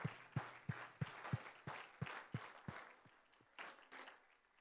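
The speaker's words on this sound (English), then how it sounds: "Can we give him a hand clap?" A church congregation claps hands, about fourteen distinct sharp claps in a fairly regular rhythm, close and moderately loud, briefly thinning out and then resuming near the end.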